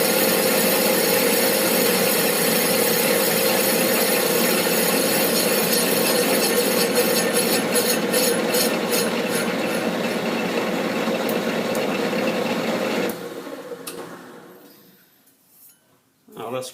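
Metal lathe skimming a quarter-inch steel plate down to 6 mm, a continuous close mechanical whir with light cutting chatter that winds down toward the end as the machine stops.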